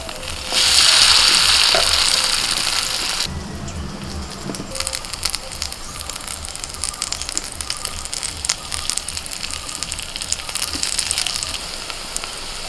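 Sandwich pieces fry in hot oil in a pan, a loud hissing sizzle that swells at first, then settles into a steady crackle with scattered pops, without talk.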